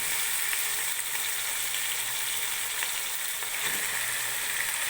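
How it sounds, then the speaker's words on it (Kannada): Chicken sizzling as it fries in hot oil with onion, tomato and masala for chicken biryani, a steady close, dense crackle that continues without pause and with no voices. "ಇವಾಗ ಇದಕ್ಕೆ ಚಿಕನ್ ಹಾಕೋತಾ ಇದ್ದೀನಿ."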